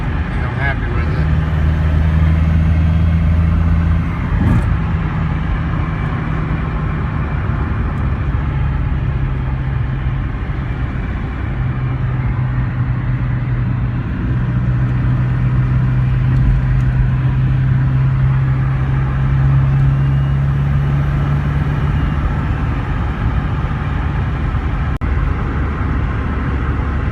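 A 1998 Volkswagen Jetta TDI diesel with a newly installed turbo cruises at about 55 mph, giving a steady, loud low engine drone and road rumble heard from inside the car.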